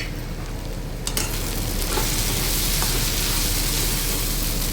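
Bhindi (okra) tossed with masala cooks over a low flame in a covered pan, giving a steady, close sizzle that swells louder after a second, with a few light clatters from the pan.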